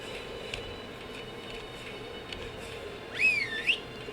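A short, bright rising-and-falling whistle command in the video game ARK: Survival Evolved near the end, over a quiet steady background hum, with a few soft clicks earlier.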